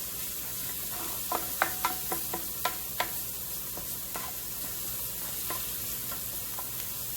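Vidalia onions sweat and sizzle in a pan, a steady broadband frying hiss with a handful of light clicks from stirring in the middle, no one talking.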